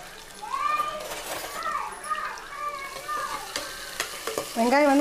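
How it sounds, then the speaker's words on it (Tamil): Onions fry with bay leaf, cinnamon and cardamom in oil for a mushroom biryani, a steady sizzle with stirring scrapes, while someone talks and children's voices sound in the background. "பட்டை, ஏலக்காய் சேர்த்தியாச்சு. நல்லா பொரிஞ்சதுமே வெங்காயம் சேர்த்துக்கலாம்."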